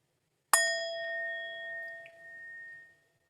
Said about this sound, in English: Listening to the bell